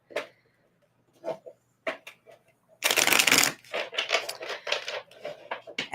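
Crisp bursts of tarot cards riffling and slapping together, a few short shuffles followed by a longer, louder flurry, close up with no talking.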